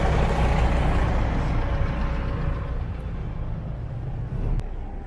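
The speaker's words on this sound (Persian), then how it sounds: "داشتم بهتون میگفتم این اتوبوس یه وایساد" A city bus on a busy Tehran street at night near Haft Howz square, a loud low engine rumble with traffic noise that slowly eases as it slows, ending with a brief hiss like an air brake.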